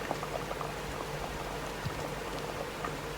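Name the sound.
Thai sour curry with pickled bamboo shoots boiling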